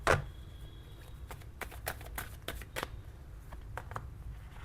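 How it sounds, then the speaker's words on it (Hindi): Tarot cards being shuffled and drawn from the deck, a handful of soft, close flicks and slides that arrive unevenly over low background hum, with no talking heard. "Let me pull out few more cards."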